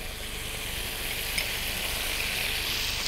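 Shrimp with minced garlic frying in a wok, an even, close sizzling hiss that holds steady for a few seconds with no talk.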